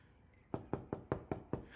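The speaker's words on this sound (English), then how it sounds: "Listen, one knocks." Six evenly spaced knocks at a door in a radio drama of Julius Caesar, sharp and fairly close, rapping in a quick steady rhythm over a faint background.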